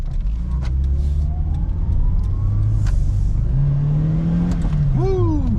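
A 1998 Opti Aerodown Beex turbo car, right-hand-drive, accelerates near by with a rumbling engine note that rises in pitch, then a quick shift and a fresh climb in revs at the end.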